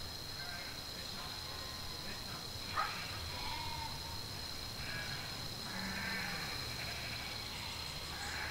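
Sheep at a mountain sheep cooperative bleating faintly and intermittently over a steady background hum, several calls spread through the clip.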